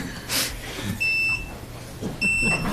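A smoke detector chirps twice in a county human services board meeting room, two short high electronic beeps about a second apart over a low murmur of room noise and faint voices.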